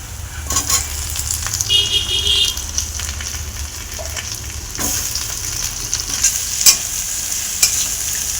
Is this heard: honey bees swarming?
no